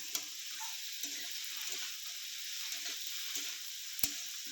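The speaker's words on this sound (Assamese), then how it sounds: "এতিয়া গোটেইখিনি ভালকৈ লাৰি ল'ম" Fish head with brinjal, bitter gourd and chillies fry in oil in a pan while being stirred, a soft steady sizzle broken by light scraping ticks of a spatula, fairly quiet and close, no speech.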